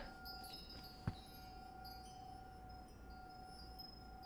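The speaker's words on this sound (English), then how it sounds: "Like a clinking." One soft glassy clink sounds inside the video game The Suicide of Rachel Foster. It is a single brief chime against a quiet, humming indoor ambience, with no speech.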